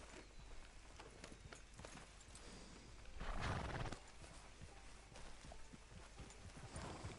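Horse in Red Dead Redemption, clip-clopping hooves at a steady rhythm with a loud neigh or snort near the middle, set against ambient outdoor game sounds.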